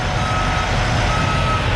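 A tanker truck backing up sounds a steady, evenly spaced reversing beep over a constant loud engine rumble, with no speech.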